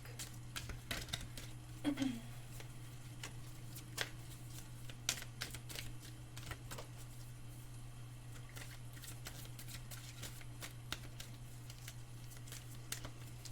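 Tarot cards are shuffled and drawn, giving soft, quiet riffling and flicking over a steady low electrical hum, with a few slightly louder snaps of cards. There is no clear talk.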